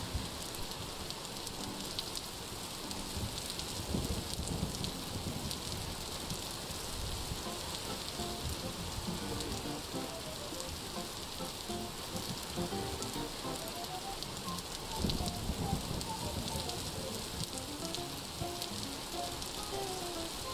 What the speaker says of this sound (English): the rain can put out your torches